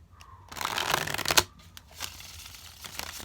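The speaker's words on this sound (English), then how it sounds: "I'm going to do one more shuffle" A tarot deck is riffled in one quick, crisp shuffle, followed by a few soft taps and handling sounds, close and alone.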